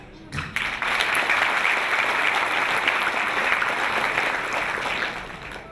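An audience gives a special guest a big round of applause at a peace event in Myanmar, steady dense clapping that rises quickly and holds evenly before tapering at the end.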